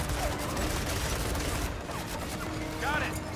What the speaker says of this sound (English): now he's getting shot by a turret. They're Gatling each other.